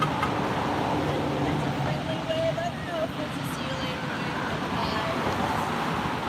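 Steady roadway traffic noise along a city street during a protest march in San Luis Obispo, a continuous broad rumble and hiss filling the whole stretch with faint passing-vehicle tones and background voices.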